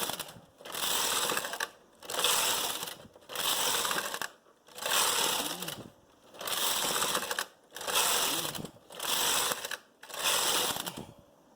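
A Brother knitting machine carriage knitting tuck lace makes seven rhythmic back-and-forth passes, each a loud rattling, whirring sweep with brief quiet pauses between them, close by and with no talking.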